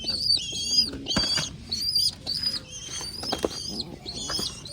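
Pigeons nearby: fluttering wing flaps and soft cooing, with scattered bird calls and scrapes, fairly close and busy throughout.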